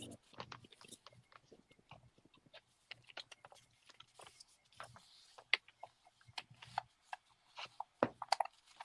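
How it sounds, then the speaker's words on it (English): Paper being scored and folded along a line at a craft table, heard as a run of short dry rubbing and scraping strokes, close and fairly quiet, with small taps between them. "you're going to fold this one into the line and score it"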